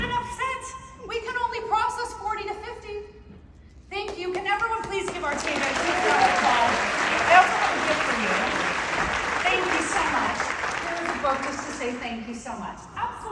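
Applause from an audience at a legal professionals' conference, honoring a speaker: a person talks for the first few seconds, then dense, steady clapping swells and fills the rest, sustained and fairly loud before tapering at the end.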